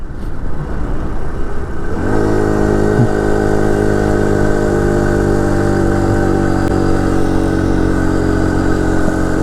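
A 49cc four-stroke motorized bicycle engine drones steadily while the bike is ridden. Its buzzing note settles into an even pitch after about two seconds, with wind rush over it, loud and close and with no talk.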